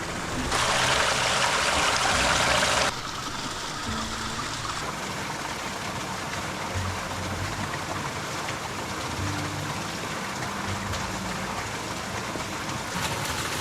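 Water flows in a stream along the Kalalau Trail in Hawaii, a steady soft rushing and trickling that fills the background. A louder hiss swells over it for the first few seconds.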